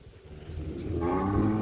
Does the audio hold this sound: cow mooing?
yes